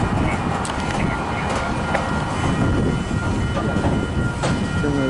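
A freight train rolls slowly into a rail yard, braking toward a stop, with a steady low rumble of wagons and faint clicking of wheels on rail joints, continuous and fairly close throughout.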